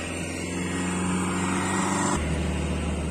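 A carbureted Honda Beat motorbike engine with an original TZM exhaust, idling with a steady low drone that shifts to a deeper, heavier rumble partway through, close up with no talk.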